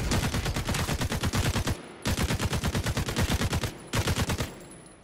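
Enemy automatic fire in the game Caliber comes as three long, loud bursts of rapid, evenly spaced shots, each followed by a brief pause, with no speech over them.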